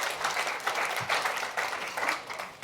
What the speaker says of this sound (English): Can we have a round of applause for our helpful volunteers?